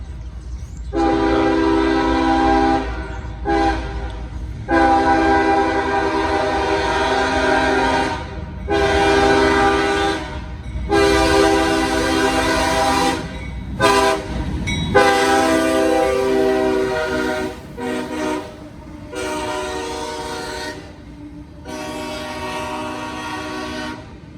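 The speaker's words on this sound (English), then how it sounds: "Here comes the train." A long CSX military freight train hauled by multiple locomotives rolls through a crowded neighbourhood along street-running track, sounding its horn in several loud, sustained blasts with brief gaps, over a low rumble of passing cars.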